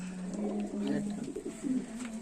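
Pigeons kept for sale coo steadily nearby, a drawn-out low droning call with overlapping softer coos and faint background noise.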